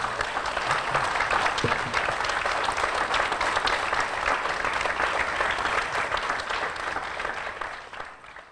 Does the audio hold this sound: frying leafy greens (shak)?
no